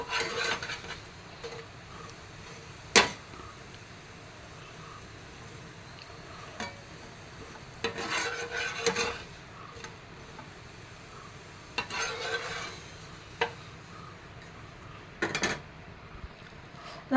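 Kaatt pathiri, a Kerala rice flatbread, fries in a pan with a faint, steady sizzle, broken by intermittent scrapes and light clatter as the pieces are turned.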